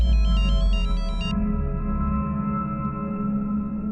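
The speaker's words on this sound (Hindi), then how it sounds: "किसका फोन आ गया?" A mobile phone ringtone plays in a crime drama scene, a bright repeating electronic melody that stops after about a second, leaving a low steady hum and background tones with no talk.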